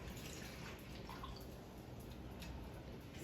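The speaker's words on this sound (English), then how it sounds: "You can take vinegar and you would pour 1 part vinegar 1 part vinegar." Water runs and drips into a vinegar mix for washing berries, a steady, close splashing trickle with no talking.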